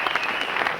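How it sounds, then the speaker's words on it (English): Studio audience applauding a stand-up comedian on a late-night talk show, a loud, dense wash of clapping filling the whole brief moment with no talk over it. "Okay, go ahead and applaud."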